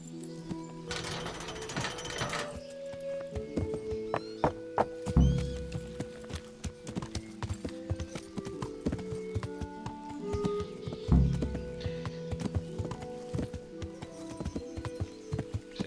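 Horse hooves clip-clopping in the medieval game Kingdom Come: Deliverance, irregular thuddy steps with occasional whinnies and clanking gear over a background of game ambience, no talk.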